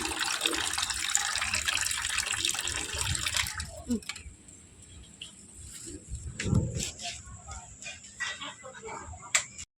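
Water is poured over the top of a cage, a loud rushing splash for a few seconds that cuts off into quieter drips, knocks and faint movement.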